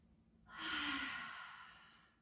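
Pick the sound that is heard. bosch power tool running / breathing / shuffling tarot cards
breathing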